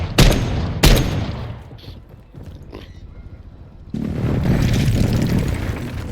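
Heavy airstrike explosions boom in a military shooter game, two sharp loud blasts in quick succession followed by rumbling debris and a sustained roaring wash of battle noise.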